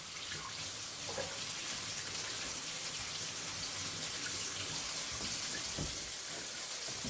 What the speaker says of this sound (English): I guess I need to wash all this off my hands.